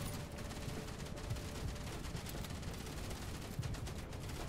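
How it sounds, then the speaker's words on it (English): A machine gun tower mounted on a core tower in the Outpost Infinity Siege video game fires in steady rapid bursts, a dense continuous rattle of gunfire at moderate volume throughout. "A machine gun tower mounted to a core tower."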